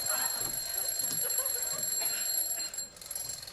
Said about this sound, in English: What's the matter with your bloody alarm?